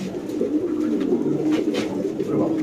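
A caged pigeon coos close by in soft, low, rolling murmurs that run on steadily, alone with no voices.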